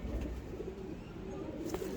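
Low, soft cooing of pigeons, a steady murmuring hum with faint background noise, fairly quiet and close.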